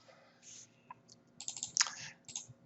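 A few numbers tapped out on a computer keyboard, quiet close clicks in short clusters with brief gaps, alone in a quiet room.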